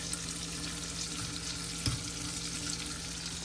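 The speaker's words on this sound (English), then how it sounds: "It's going to fry up really nice." A whole yellowtail snapper fries in hot oil in a pan, giving a steady dense sizzle and crackle with one brief clunk midway, close up and without talk.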